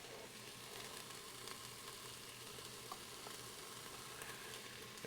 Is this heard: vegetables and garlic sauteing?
yes